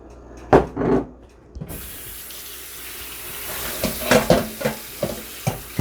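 Tap water runs steadily into a sink while raspberries are rinsed, with close knocks and rustling of the berries and container against the rush of water.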